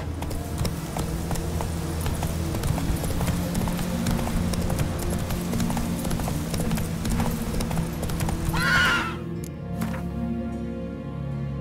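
Roach the horse gallops in Witcher 3, with loud steady rapid hoofbeats clip-clopping throughout before stopping abruptly near the end.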